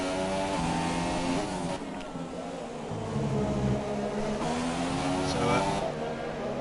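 Toro Rosso Formula 1 car in F1 2017 on PS4, its engine whining with rising and falling harmonic pitch through gear changes, steady and fairly loud, with commentary spoken over it.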